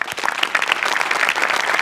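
Studio audience applause on a Marathi comedy show, a dense, steady burst of many hands clapping together throughout, loud and close with no talk over it.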